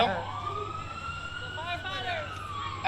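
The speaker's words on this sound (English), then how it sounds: "I hear the sirens" Emergency-vehicle siren wailing steadily through an outdoor comedy show in Norco, a sustained rising and falling tone that carries over the whole stretch, with crowd noise underneath and a louder burst at the end.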